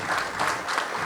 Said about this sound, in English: Can we have a big round of applause for all the dignitaries?